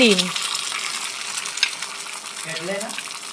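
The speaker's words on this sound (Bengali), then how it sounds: "কড়াইতে দিয়ে দেবো ডিমটা ভাজার জন্য" An egg fries in oil in a kadai, a continuous close sizzle with a few scraping and metallic clinks; a brief voice-like tone sounds at the start and again near the end.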